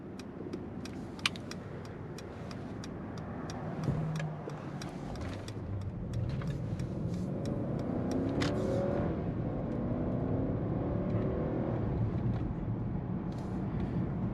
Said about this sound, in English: You hear the V8 singing in the background a little bit.